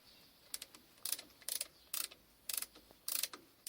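A lathe's worm and wheel mechanism turning the chuck produces a faint, regular series of close mechanical clicks and ratcheting ticks, about two per second, over a quiet hiss.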